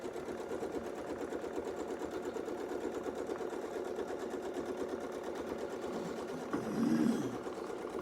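A sewing machine runs steadily, stitching a wreath design with double stitching, its even mechanical whir continuing throughout with a brief louder burst near the end.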